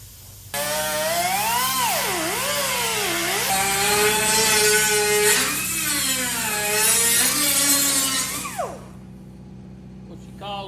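A cutting wheel bites into a metal patch piece during repair work on a 1958 Chevy, a loud, close, sustained screech whose pitch sweeps up and down as the cut progresses, ending abruptly near the close.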